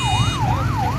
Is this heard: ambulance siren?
yes